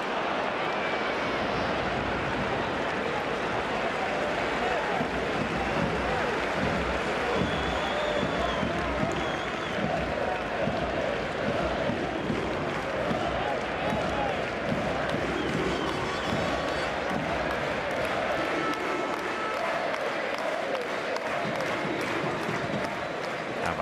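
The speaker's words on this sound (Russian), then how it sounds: "Болельщики не утихают, болельщикам страшно интересно." A packed football stadium crowd of fans at a La Liga match, Eibar versus Real Madrid, at a very small stadium: a continuous, dense roar of voices and chanting that stays loud and steady throughout, with a commentator's voice faintly mixed in.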